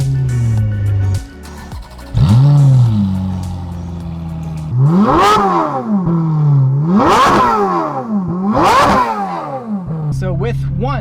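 Ferrari 430 Scuderia engine cranks and fires, then settles into a deep idle before three sharp, loud revs that climb and fall again, heard up close with a brief crackle at the end.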